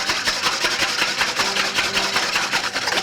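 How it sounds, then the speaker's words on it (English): Egg whites whisked by hand in a bowl for meringue, with rapid rhythmic clicking and scraping strokes repeating evenly and close up throughout. "I'm starting by whisking egg whites"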